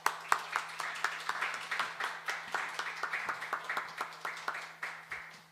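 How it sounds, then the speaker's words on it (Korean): A church congregation at a Sunday service claps in welcome. The claps are distinct and fairly sparse at a moderate distance, with a faint steady hum underneath. "여러분 한번 박수로 환영해 주시고"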